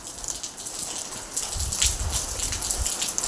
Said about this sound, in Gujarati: ઝરમર ક્યારનો વરસાદ ચાલુ છે આ રીતના.